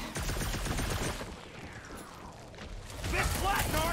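Gunfire in Marvel's Guardians of the Galaxy, rapid bursts of blaster shots rattling amid combat noise, with a voice talking over the action.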